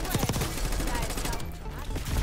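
Dense, rapid gunfire from the video game Call of Duty forms a loud, continuous fusillade of sharp cracks that eases briefly before resuming.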